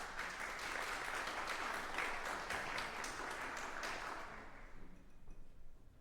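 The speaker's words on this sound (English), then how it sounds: "Please give her a applause." An audience at an entrepreneurial leadership summit claps to welcome a speaker on a rainy morning, steady moderate applause that fades out toward the end, with no voices over it.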